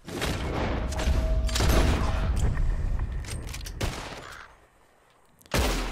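Gunfire in a Red Dead Redemption 2 shootout: dense, overlapping shots and booms roll continuously for several seconds, thin out into a quieter stretch, then a loud burst returns at the end.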